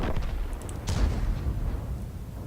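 A heavy FV304 self-propelled artillery shell fires in a World of Tanks match, a deep booming blast with a sharp crack that rolls into a low rumble, loud and close, with no voices.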